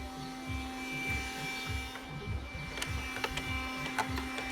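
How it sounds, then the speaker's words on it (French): A household vacuum cleaner runs steadily at close range, its motor drone pulsing with a regular rhythm while the nozzle rubs and clicks against surfaces. "L'aspirateur."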